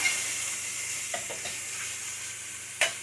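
Okra and mushrooms fry in butter in a pan on an electric stove, giving a steady close sizzle with a few soft stirring scrapes and taps.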